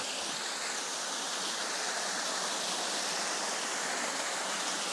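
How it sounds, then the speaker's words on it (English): Water cascades steadily down a drop beside the ruins of an old brick mill in a valley, a loud, continuous rushing roar with no pauses. "Cascading right down here alongside of what I assume was another mill."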